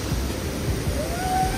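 A swollen mountain river rushes on a monsoon trek to Pachpokhari, a dense continuous roar of water with a faint rising engine-like whine near the end.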